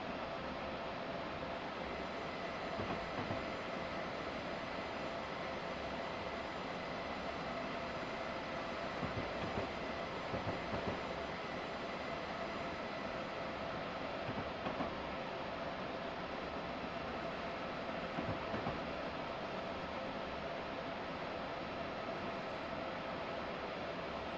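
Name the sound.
train running on the New York to New Haven line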